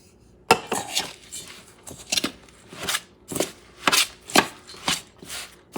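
Spoon and bowl clatter as coconut macaroon ingredients with sugar replacement are mixed: a series of sharp, irregular knocks and scrapes, close and moderately loud, with no talking.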